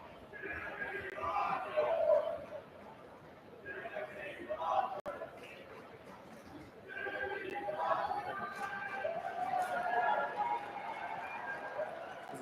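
Basketball crowd chanting in waves at a men's college game between WSU and Pacific, rhythmic bursts of voices swelling and fading across the arena with steady background crowd noise.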